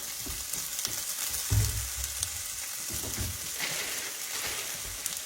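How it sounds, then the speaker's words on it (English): Smoked sausages fry in a pan with a steady, close crackling sizzle, and a louder burst of spitting about a third of the way through before settling back to an even hiss. "I'm cooking me sausage"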